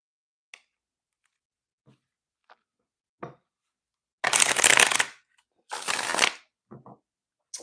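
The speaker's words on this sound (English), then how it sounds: "I'm a loud shuffler." Thick playing cards shuffle loudly in two long riffling bursts near the mic, with scattered soft card taps and clicks before and after.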